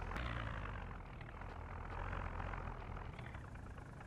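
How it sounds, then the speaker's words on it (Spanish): A helicopter in Project Zomboid drones with a steady broadband rotor and engine rumble, holding fairly even as it moves off, with no talk. "se está yendo el helicóptero"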